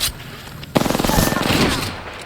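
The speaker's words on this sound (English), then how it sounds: "Shooting at me." Rapid automatic gunfire from an enemy in the shooter game Apex Legends, a dense burst of close, loud repeated shots that starts abruptly and keeps rattling steadily before trailing off.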